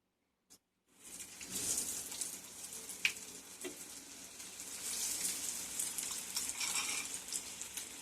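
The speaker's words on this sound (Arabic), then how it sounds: "ندوزو في هذا الخليط ونقليو في الزيت." Battered popcorn chicken pieces dropped into hot oil, a sharp burst of frying that settles into a steady, moderate bubbling sizzle with a few louder pops.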